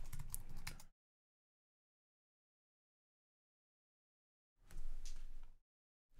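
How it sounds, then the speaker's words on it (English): Someone types a password on a computer keyboard in two quick bursts of soft key clicks, separated by a long stretch of silence. "I keep typing my password wrong"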